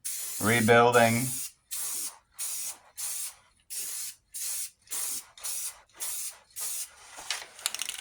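An aerosol can sprays paint onto Jeep parts in a series of about ten short, evenly spaced hissing bursts, close and loud, after a brief rattling start.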